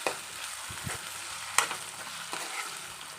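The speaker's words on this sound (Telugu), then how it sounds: "ఆలుగడ్డ కూడా ఫ్రై అవ్వాలండి మంచిగా" Potatoes frying in a pan for a home-style potato curry, a steady soft sizzle with a few sharp scrapes and clicks of a spatula at the pan, close and fairly quiet, no voices.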